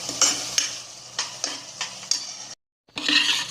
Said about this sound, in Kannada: ಈ ಒಗ್ಗರಣೆಗೆ ರೈಸ್ ಹಾಕ್ತಾ ಇದ್ದೀನಿ